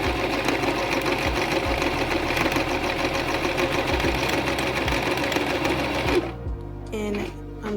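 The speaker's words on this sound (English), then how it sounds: "I'm going to stitch around this edge like I've been doing" A sewing machine runs at a steady, fast clatter as it stitches along the edge of a waistband, close by, then stops abruptly near the end, leaving a few quieter mechanical clicks.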